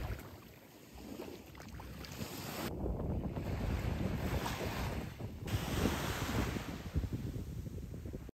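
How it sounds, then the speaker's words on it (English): Surf and strong wind at Mikuni Sunset Beach in Fukui, a continuous roar of breaking waves with heavy microphone buffeting that swells and drops, no voices. "we ended it at Mikuni Sunset Beach"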